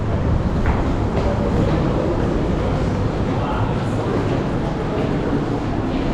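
A Prague metro train on the grey line roars loudly and steadily, a dense continuous rumble close by with no break.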